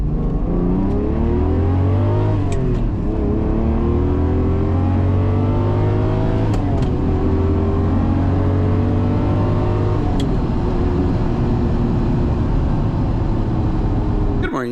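A 1987 Ferrari Testarossa engine revs hard and close, its tone climbing and dropping in repeated sweeps as the throttle is blipped, over a steady low idle rumble that runs the whole time.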